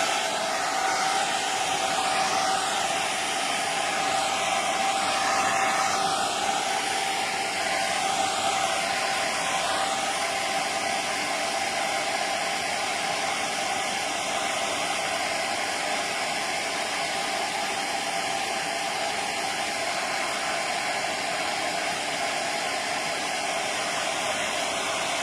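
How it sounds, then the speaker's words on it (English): A hair dryer blows steadily and loudly over an oil painting for the full span, a continuous airy whoosh with a faint whine and no other sound. "So once again, I'm going to dry."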